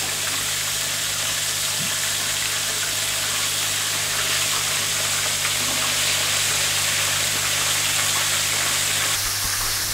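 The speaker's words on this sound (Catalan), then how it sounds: "ara els hem enfarinat una miqueta i els fregirem" Floured mushrooms sizzle steadily in hot oil, a constant crackling hiss over a low hum, with no voices.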